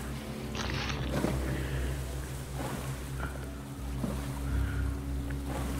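Raft being rowed across open sea in the survival game Stranded Deep, a steady wash of water and wind with a low droning rumble and occasional splashy paddle strokes, no talk.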